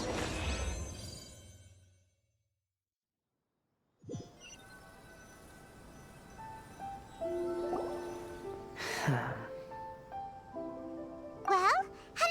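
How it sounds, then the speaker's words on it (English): Water from a pond is sprinkled onto sheets of paper in Genshin Impact: a soft splashing patter at the start, then silence, followed by quiet drips and chiming game tones. "after I sprinkled some water onto the paper, writing did indeed begin to appear on it"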